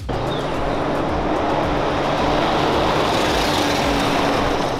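A Volga car engine roars continuously at a rally, a loud, dense, steady drone like a jet airplane, sustained throughout with no talking.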